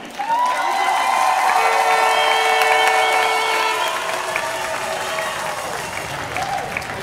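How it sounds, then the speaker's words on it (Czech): Audience applause at an international flag ceremony, a broad steady wash of many hands clapping that fades gradually, with some voices heard through it. "Pojďme jim ještě jednou zatleskat."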